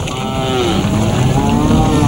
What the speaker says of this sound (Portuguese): A manada foge em pânico.